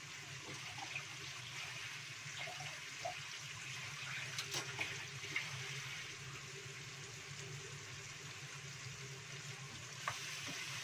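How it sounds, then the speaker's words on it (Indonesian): Chicken feet and spices sauté slowly in a pan, giving a faint, steady sizzle with soft scattered pops and occasional stirring clicks. "Pelan-pelan ditumis"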